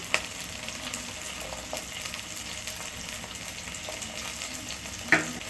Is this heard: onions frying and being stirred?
yes